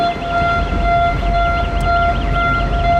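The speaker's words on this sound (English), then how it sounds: "Start to hear the sirens and alarms indicating the closure of the gates behind the ship." Sirens and alarms at the Panama Canal locks in Colón sound as the rolling gates close behind a ship, a steady wailing tone with a warbling alarm over a low rumbling background, continuous and fairly loud, with no voices.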